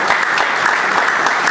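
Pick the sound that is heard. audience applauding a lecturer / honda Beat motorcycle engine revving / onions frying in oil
audience applauding a lecturer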